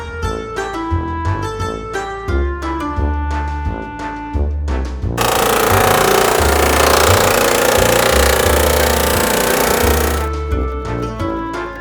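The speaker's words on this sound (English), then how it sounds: "He hoped Rubble's drill attachment would go through the chocolate." A toy drill attachment grinds into a chocolate egg in one continuous harsh burst lasting about five seconds, set between stretches of loud music.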